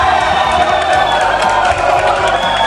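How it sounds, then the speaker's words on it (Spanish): A crowd cheering and applauding for mothers at a celebration show, a loud, dense roar of voices and whoops with clapping mixed underneath, sustained throughout alongside amplified music. "vamos a darle un aplauso lindo a todas las madres"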